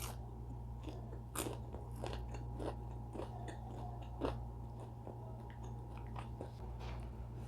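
Crunchy bakwan vegetable fritter, made with spring onion, carrot, corn and flour, is bitten and chewed close up, with repeated crisp crunches over a quiet background.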